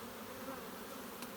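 Honey bees buzz at the hive, a steady, close droning hum of many worker bees, continuous and unbroken throughout the short moment.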